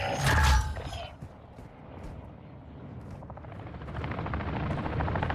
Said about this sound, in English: the helo's moving